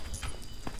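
A cow's hooves clop quickly and rhythmically as it is ridden in the LEGO Jurassic Park video game, a brief run of light, close thuds with no talking.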